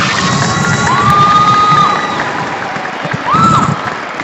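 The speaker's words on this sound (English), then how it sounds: "let's give a round of applause" A school audience at a CTE event cheers loudly, with whoops and shouts rising in two bursts over steady crowd noise and applause.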